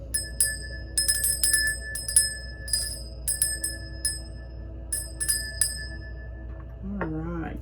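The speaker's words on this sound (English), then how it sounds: "let's ring the bell." Small bell rung repeatedly in quick clusters of bright, ringing strikes, fairly close, with a voice starting to speak at the very end.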